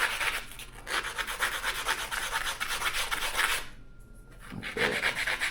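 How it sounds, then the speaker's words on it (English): Sandpaper held by hand flattens the end of a turkey quill being made into a fishing float. The rasping rub runs close and steady, then stops briefly and starts again, with no voices. "just hold my sandpaper there. I'm going to kind of flatten that out a little bit on that end"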